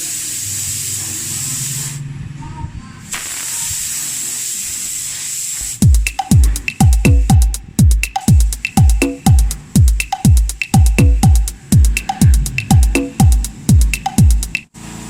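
Primer hisses from a spray can onto motorcycle fairings in two steady bursts with a short break between them. A rhythmic, thumping music beat then takes over.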